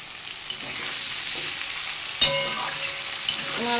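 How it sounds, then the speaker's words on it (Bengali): Potatoes and tomatoes frying in a pan give off a steady sizzle. A few clinks and scrapes of stirring break through it, with no talking. "আমার আলুটাও ভাজা হয়ে গেছে, আর দেখুন টমেটোটাও নরম হয়ে গেছে"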